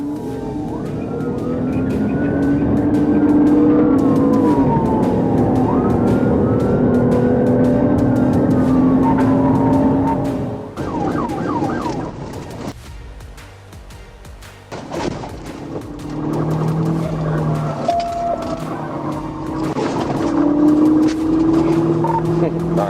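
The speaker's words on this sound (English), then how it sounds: "a Dodge Charger carrying 4 suspects pushed speeds up to 210 kilometers per hour" A Dodge Charger carrying four suspects races at high speed through heavy traffic in a police chase, its loud engine roar and rushing road noise rising and falling with passing traffic and brief quieter gaps.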